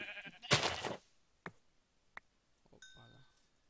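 A sheep bleats once in the Minecraft video game, a short, fairly loud cry followed by faint clicks and a chime. Someone speaks quietly at the start and again at the end.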